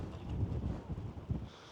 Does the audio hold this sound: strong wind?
yes